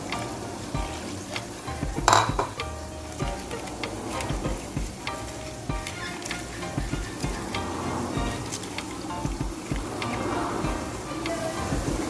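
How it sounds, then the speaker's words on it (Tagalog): Liver fries in a pan with a constant crackling sizzle, punctuated by clinks and scrapes of a utensil against the pan, with a voice faintly present in the background. "is frying the liver first"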